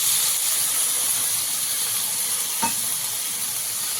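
Chicken marinated in garlic paste, black pepper, salt, chaat masala and tomato sauce fries in a hot pan, giving a steady, close hiss of sizzling with one brief scrape partway through and no voices.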